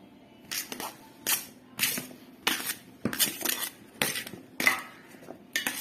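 A knife tip stirs chopped guava pieces in a bowl, giving about eight sharp, close metallic clinks and scrapes in an irregular rhythm, with no talking.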